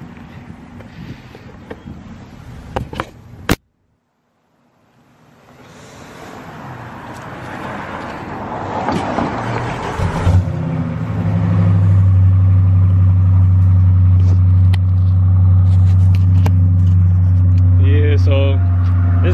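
Dodge Charger RT with a mid muffler delete, a sharp transient, a brief near-silence, then wind and a rising engine rumble settling into a loud, steady droning exhaust idle close to the microphone; speech occurs early.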